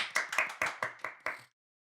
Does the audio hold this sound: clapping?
yes